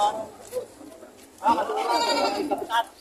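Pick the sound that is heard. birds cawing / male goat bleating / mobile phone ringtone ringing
male goat bleating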